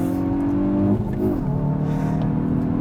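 A 2022 Hyundai i20N hot hatch accelerates hard on a track with a loud, sustained engine drone heard from inside the car. The pitch climbs, then drops briefly at a gear change before steadying again.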